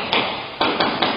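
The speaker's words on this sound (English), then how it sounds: "I tracked down this video surveillance where you can hear those gunshots." Several gunshots crack in quick succession, the first alone and then three close together, muffled and somewhat distant against steady background noise, heard on surveillance footage at a bar in Orange County.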